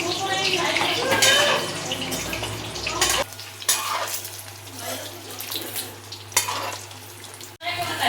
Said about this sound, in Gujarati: એક પછી એક મેં બધા બટેટા છે એને ફ્રાય કરવા માટે કડાઈમાં નાખી દીધા